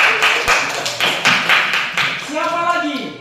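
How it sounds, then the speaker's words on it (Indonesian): Children in a classroom clap their hands for a classmate named Alexander, a quick run of sharp, evenly spaced claps that ends as a voice starts speaking. "tepuk tangan untuk Alexander."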